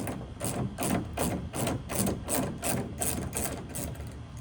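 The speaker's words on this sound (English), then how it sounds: "So get yourself an 8mm ratchet, and let's go ahead and start taking, it's just 2 bolts." An 8mm ratchet clicks rapidly and rhythmically as it loosens bolts on a 2020 Ford F150 reverse light housing, a steady series of close, crisp ratcheting strokes with no talk.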